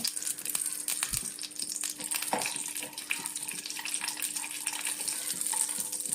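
Cashews fry in ghee in a pan, giving a steady, close sizzle with small crackles and pops running through it. No one speaks.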